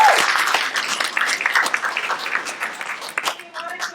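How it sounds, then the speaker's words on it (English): Audience applause at a live comedy pun competition, loud at first and tapering off, with voices and cheers mixed in. "So round of applause for Scully, everybody."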